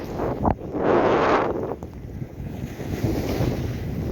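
Heavy wind buffeting the microphone on a ski slope during heavy snowfall, rumbling gusts that surge loudly near the start and then settle into a constant roar.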